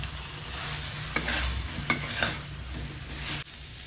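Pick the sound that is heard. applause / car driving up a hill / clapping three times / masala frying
masala frying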